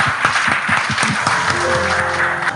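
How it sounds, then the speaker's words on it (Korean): A seminar audience at a church conference session gives a short burst of applause to welcome a missionary speaker, dense clapping filling the room with a few low voice sounds underneath. "박수로."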